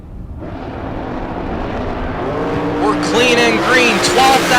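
At a drag race, a door car and a dragster roar down the strip, engines building from a low rumble to a loud, rising howl, with a track announcer talking over the noise.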